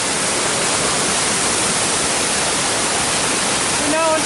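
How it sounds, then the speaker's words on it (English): Waterfall in Rouken Glen Park, Glasgow, Scotland, heard from the top: a loud, unbroken roar of falling water up close, with a voice briefly rising over it at the very end. "We're now on top of the waterfall."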